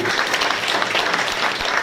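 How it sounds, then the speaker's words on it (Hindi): A village crowd at a religious procession gathering claps loudly and continuously, dense applause close by that fills the whole moment. "जोरदार ताली बजाइए सबके लिए"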